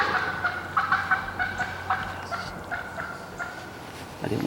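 A wild turkey gobbler, part of a group with hens, gobbles repeatedly at a distance, several separate rattling calls over quiet outdoor background with faint noise.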